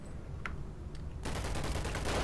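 Sustained rapid gunfire fills a video game firefight, starting with a few scattered shots before a dense, loud barrage of continuous rattling fire.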